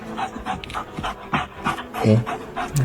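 A dog pants close by in quick, uneven breaths with a few faint whimpers, while people talk around it.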